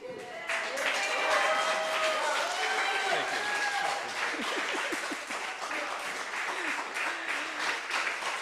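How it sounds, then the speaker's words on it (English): A standing audience at an annual meeting gives a sustained round of applause that stays dense and steady throughout, with cheers and voices mixed in beneath the clapping. "please, I'd like you to stand and give him some applause"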